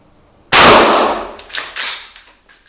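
A Schmeisser Ultramatch AR15 straight-pull .223 rifle fires one sharp, loud shot, followed by a few decaying echoing reflections.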